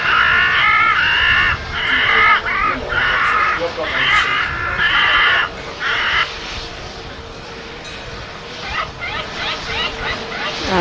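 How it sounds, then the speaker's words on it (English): A crow caws in a series of harsh, loud repeated calls, several grouped bursts in the first half, then softer, more scattered calls over a steady background. "And that, of course, is a crow."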